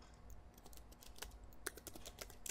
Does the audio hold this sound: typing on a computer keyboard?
yes